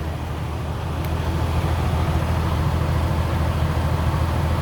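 A semi truck engine idles with a steady low rumble, then its revs climb and hold at a louder, fuller drone during a trailer inspection, close by with no talking.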